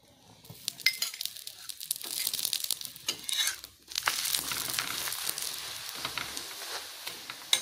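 Atta paratha with green peas frying in a little oil: an uneven crackling sizzle that swells and fades, mixed with light clinks and scraping of a utensil against the pan, close and moderately quiet, no voices.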